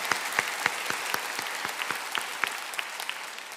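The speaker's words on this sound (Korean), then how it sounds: "다시 한번 우리 주님께 영광의 박수 올렸으면 좋겠습니다." A church congregation offers a round of applause to God during a sermon. It is a steady, moderately loud patter of many hands, with sharp individual claps standing out and no voices.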